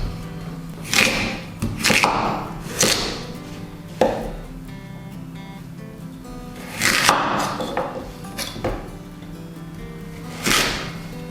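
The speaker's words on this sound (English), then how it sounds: "And now we will cut them into cubes." A kitchen knife cuts kohlrabi into cubes on a board, giving a string of sharp, close chops that come in irregular clusters with pauses between them, over a steady low background hum, with no talking.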